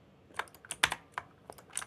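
Keys clack on a computer keyboard as shortcut combinations are pressed, a handful of sharp, close taps in an uneven rhythm with a louder press near the middle, no speech over them.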